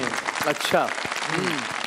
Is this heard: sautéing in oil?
no